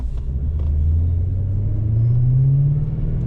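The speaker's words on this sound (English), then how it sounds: "And with that woofly V8 noise" An MG X-Power SV's V8 gives a deep, steady rumble while driving, its low drone swelling and climbing slightly in pitch under light throttle. Close and loud, with no talking.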